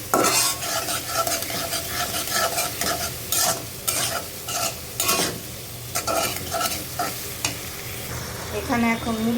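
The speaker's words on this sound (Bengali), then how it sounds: "আলুটা তেলের সাথে ভাজা হয়ে যাক" Potatoes fry and sizzle in hot oil with ginger-garlic paste while being stirred continuously, with scraping and clattering spatula strokes over a steady sizzle close up and no talking.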